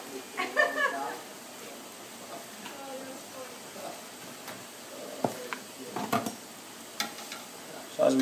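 Thin churros fry in hot oil with a soft, steady sizzle, broken by occasional clicks and light clatter nearby.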